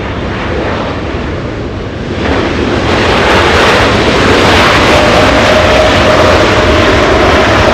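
Airliner engines spooling up to full takeoff power at Los Angeles International Airport, a loud broadband roar that swells after a couple of seconds and holds steady, with a faint rising whine under it and wind buffeting the microphone.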